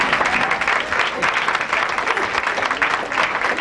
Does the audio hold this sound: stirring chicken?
no